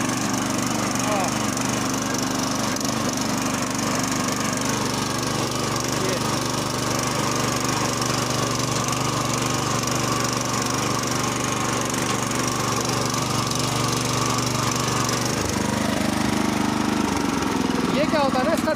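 A power tiller ploughs soil, its engine running loud and steady in a continuous rough drone near the mic, with a shift in pitch and load toward the end.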